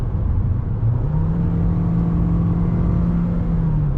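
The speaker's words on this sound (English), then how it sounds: "Let's give it a little acceleration test here." A 2016 Buick Encore accelerates from inside the cabin with a steady engine drone and whir. The pitch climbs, then holds as the transmission kicks down, under continuous road rumble.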